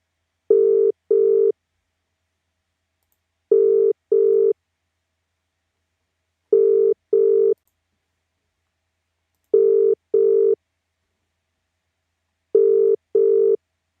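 A telephone ringing tone repeats in steady double bursts, five pairs spaced evenly apart with silence between, clean and electronic, as a radio show places a call.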